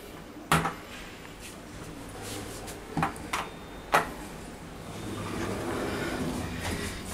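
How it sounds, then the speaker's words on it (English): An Otis Gen2 elevator with a two-speed door at a shopping centre: a few distinct thuds and clunks of the door mechanism stand out over a quiet room-tone hum, followed by a steady low rumble of movement. "It's an Otis Gen 2 two-speed door."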